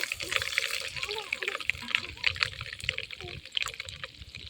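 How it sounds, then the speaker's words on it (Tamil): Cooking oil pours into a pan in a home kitchen, a soft continuous liquid stream with light splashing and trickling, fairly close and moderately quiet. "எண்ணெய் ஊற்றிக்கலாம்"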